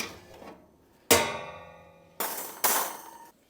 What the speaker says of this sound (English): take out the rack